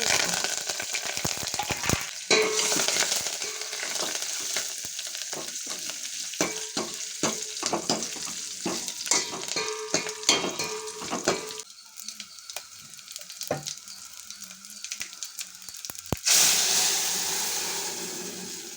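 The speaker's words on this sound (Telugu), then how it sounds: "టమాటా పప్పుకు కావలసిన తాలింపులు: వెల్లుల్లిపాయ, ఆవాలు, జీలకర్ర, ఎండుమిర్చి, కరివేపాకు." Garlic, mustard seeds, cumin, dried red chillies and curry leaves fry in oil for tomato dal, a close, steady sizzle with popping seeds and the scrape of stirring that quiets midway before flaring up again.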